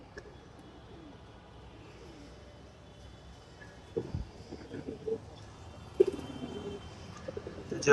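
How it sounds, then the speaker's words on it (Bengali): Racing pigeons resting in a loft give soft, low cooing calls, faint at first and growing in short bursts, with light rustling and some distant background noise. "এই তো কবুতর সবাই রেস্টে আছে"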